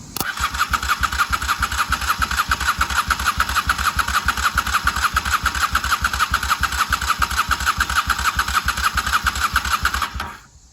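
A 1995 Honda Shadow VLX 600 VT600CD motorcycle that won't run cranks on its starter in a loud, close, steady chug for about ten seconds without catching, then cuts off abruptly.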